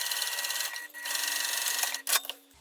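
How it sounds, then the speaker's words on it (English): A sewing machine runs steadily along a fabric seam with a backstitch, giving a close, continuous mechanical whir that pauses briefly near the end before a short burst of stitching. "I'm sewing again with that same seam allowance from one edge up to the other here along the bottom"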